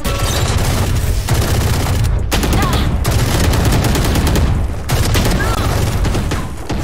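Rapid gunfire from weapons in the video game Valorant, loud and continuous, with bursts of automatic shots and booming impacts packed together across the whole stretch.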